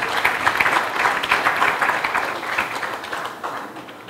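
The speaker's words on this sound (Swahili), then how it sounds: "Makofi mengi kwa J-Root." An audience applauds for J-Root with a dense, sustained wash of many hands clapping that tapers slightly toward the end, with no voices over it.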